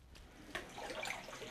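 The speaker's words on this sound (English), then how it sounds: "to showering with a bucket" Water is poured from a bucket during a field shower on an army exercise in Cambodia, a faint, steady splashing and trickling that lasts about a second and a half with no voices.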